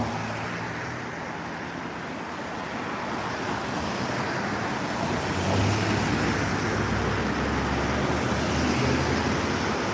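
Heavy road traffic at an accident scene in Palm Beach Gardens, Florida, a constant broad roar of passing vehicles that builds slightly in the middle, steady and fairly loud, with no talking.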